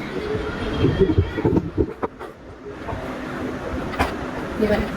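A tailoring sewing machine set to speed 100 stitches in a rapid, rattling clatter that speeds up and slows down in bursts. A voice is faintly present at times.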